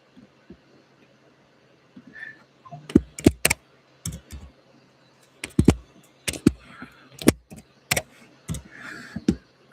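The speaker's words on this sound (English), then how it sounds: "I'm just typing in some information" Computer keyboard typing in short irregular bursts of sharp clicks, fairly close and clear against a quiet background with a low steady hum.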